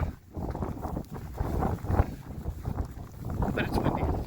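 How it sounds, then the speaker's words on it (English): Gusty wind buffeting the microphone on a dry mountain stretch of the Pacific Crest Trail, rough rumbling blasts that swell and fade unevenly, fairly close and loud. "It's just a little bit windy."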